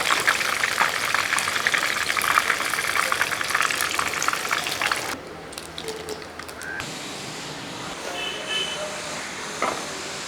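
Chicken pieces deep-fry in hot oil, a steady loud bubbling hiss for about five seconds that then drops to a quieter, sparser sizzle.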